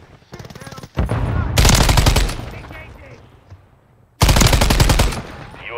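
Gunfire from a Modern Warfare 3 multiplayer match: loud, close bursts of rapid automatic fire in several sharp volleys separated by short quieter gaps.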